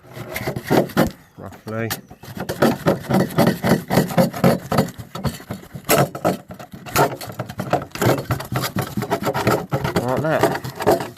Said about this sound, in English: Next job is just to cut through the polystyrene.